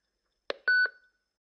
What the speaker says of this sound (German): können Sie nach dem Signalton eine Nachricht hinterlassen